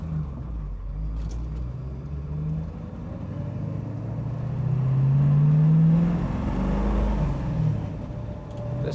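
A 1970 Ford Boss 302 Mustang V8 rumbles steadily from inside the car while driving, with a deep low drone that swells louder mid-way as the engine pulls, then settles back to a cruising hum.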